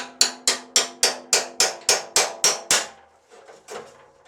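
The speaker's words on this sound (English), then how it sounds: "Keep hitting them until the welds break." A hammer strikes a flat metal punch to break the welds on a steel snow plow blade being converted to a boxed blade, ten sharp, evenly spaced clanging blows close up, followed by a few fainter knocks.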